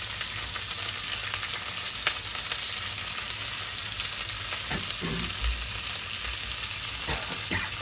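Cumin, onion and green chili frying in a pan, a steady close sizzle with soft stirring scrapes and a few brief clatters, no voices.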